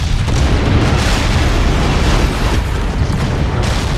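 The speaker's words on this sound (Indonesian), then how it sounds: "Badai pemusnahan meledak dahsyat" A massive anime explosion from Soul Land 2, one sustained, loud, deep roaring blast with rumbling low end that fills the whole moment without letup.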